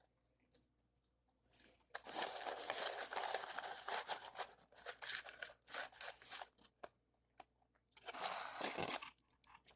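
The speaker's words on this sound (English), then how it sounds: "I'm just eating McDonald's fries." McDonald's fries are eaten close up, with bursts of crisp crunching and chewing separated by short silent pauses.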